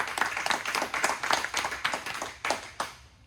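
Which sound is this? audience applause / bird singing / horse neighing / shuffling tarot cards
audience applause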